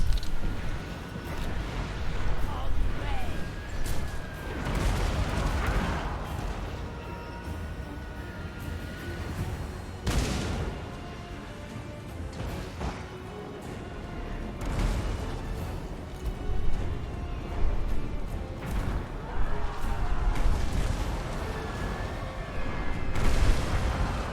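Pirate gunners firing artillery in a Pirates of Sartosa battle, a series of heavy booms spaced irregularly over a constant rumbling battlefield din.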